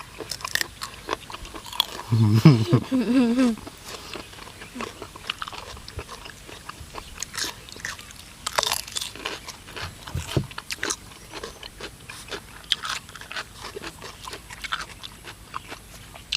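Close, wet crunching and chewing of spicy pounded cuttlefish tentacles repeats steadily, with a loud bite early on and faint voices murmuring in the background.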